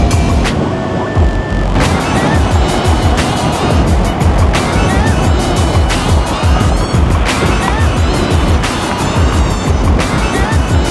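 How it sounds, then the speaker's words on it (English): An Eahora Tiger King electric scooter rides through traffic, with loud continuous wind rush and road noise and a few sharp clicks or bumps along the way. "Show you guys how good it is at cutting through traffic on a scooter"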